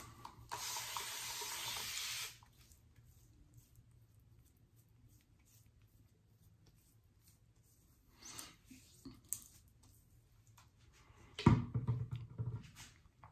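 Running tap water pours hard over a Lambda Athena safety razor for about two seconds, then stops; faint handling clicks and a brief splash of water return near the end.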